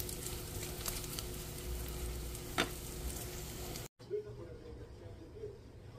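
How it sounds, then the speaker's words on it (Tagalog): Bacon sizzles steadily as it fries in a pan, a constant close hiss with a brief clatter partway through, and the sound cuts out then resumes quieter. "We add bacon."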